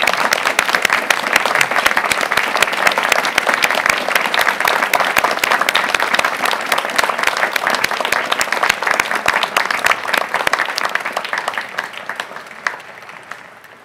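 Sustained applause from a large audience at a 2013 University of Virginia law school graduation, as graduates stand to honor their parents; dense, steady clapping that carries on evenly for over ten seconds before tapering off.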